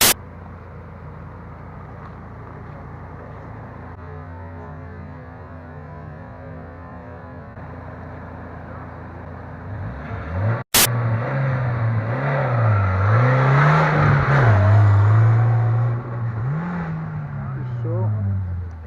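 An off-road 4x4 car idles with a steady low drone while people talk, then its engine revs in rising and falling waves as it drives down a sandy hill, loud and close.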